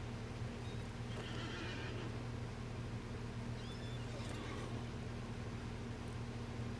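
Horse neighs over steady hoofbeats in a Middle-earth video game, fairly soft and set against a constant low hum and background wash, with a few brighter whinny bursts rising above it.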